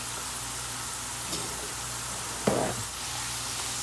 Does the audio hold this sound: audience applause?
no